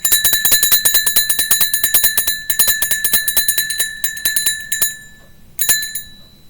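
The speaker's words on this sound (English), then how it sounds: "Group 1 is the low bell." Low bell rung repeatedly in quick rapid strikes, bright ringing tones sounding in bursts with short pauses, close and clear with no talking.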